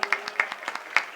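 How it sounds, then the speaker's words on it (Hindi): Audience clapping at a Hindi poetry recital (kavi sammelan), a short run of sparse, separate claps from a few hands rather than full applause. "ताली बजाओ"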